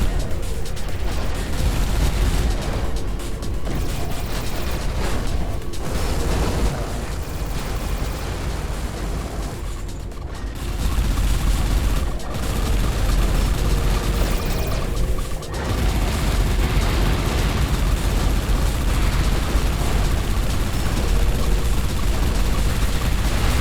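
Missiles and weapons firing in the space shooter Everspace 2, a dense, continuous barrage of blasts and booms running throughout, loud and layered with only brief dips.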